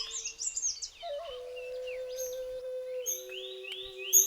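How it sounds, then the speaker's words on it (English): Song of the Malabar whistling thrush, the 'whistling schoolboy' of the Western Ghats: clear, human-like whistled phrases with sustained tones and sliding notes, close and alone amid other faint bird chirps. "People in the Ghats call it the whistling schoolboy for the very human-like element in its songs."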